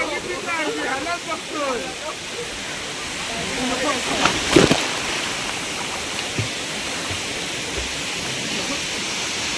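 Monsoon waterfall at Chandranagar village near Dapoli in the Konkan, a steady broadband roar of falling water throughout, with voices faintly audible beneath it early on.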